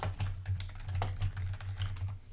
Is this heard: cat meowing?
no